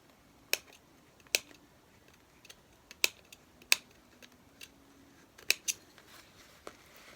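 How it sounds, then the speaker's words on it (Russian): Scissors snip a hole through denim jeans that are being made into a bag, giving sharp, distinct clicks at irregular intervals, close and fairly quiet, with no talking. "И дальше от этой метки я прорезаю здесь отверстие."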